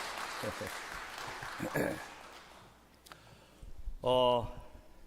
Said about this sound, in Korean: 우리 아삽성가대 우리 또 지휘자 정성수 교수님 위해서 특별히 박수 한번 합시다.